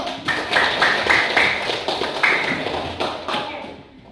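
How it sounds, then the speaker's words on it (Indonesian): A classroom group applauds Group 1 during a teacher-training teaching practice, a close, dense patter of clapping that holds steady for several seconds before tapering off. "Sekali lagi kita tepuk tangan untuk kelompok 1"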